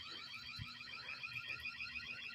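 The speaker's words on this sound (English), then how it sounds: "Their alarm's way too sensitive." An alarm sounds continuously in a steady, pulsing high-pitched pattern, with no talk over it.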